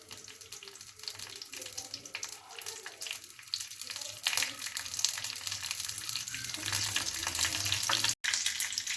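Mustard oil tadka with curry leaves sizzles loudly and steadily in a small pan, a dense crackling hiss that swells toward the end, with no talking.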